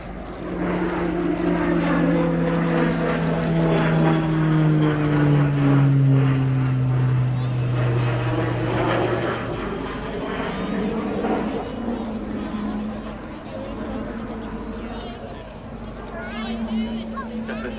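A Grob Tutor propeller trainer performs a slow roll at an airshow, its engine drone loud and steady with a pitch that slides downward as it passes, then fades slightly, while a commentator talks over it throughout.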